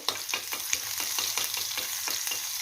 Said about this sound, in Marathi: थोडंसं जिरं टाकलं आहे नंतर लसूण टाकते लसणीने जरा खमंगपणा येतो